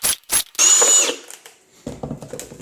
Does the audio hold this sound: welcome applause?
no